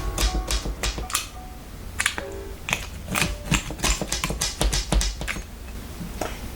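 A homemade pizza being sliced, with a series of sharp crisp cutting and tapping sounds against the pan, irregular and close, with no talking.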